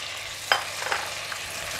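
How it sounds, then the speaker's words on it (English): Razor clams sizzling in a hot pan for a Thai basil stir fry, a steady close hiss of frying with a sharper crackle as they hit the oil and a few small pops. "Now I'm going to put in the laser clams."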